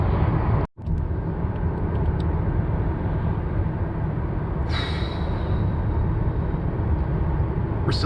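Steady, loud road and engine rumble fills the cabin of a moving car, broad and unbroken apart from one brief dropout near the start, with a faint higher whine joining later.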